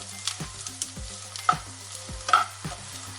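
Bitter gourd fries in coconut oil with a soft sizzle, broken by a few sharp scrapes and taps of a spoon against the pan, quiet and close with no talking.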